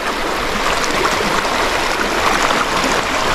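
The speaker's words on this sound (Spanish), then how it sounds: "Se ve que es un río de agua limpia." Clean river water flows steadily in a continuous broadband rush near Capula, Chiquilistlán, loud and close with no speech.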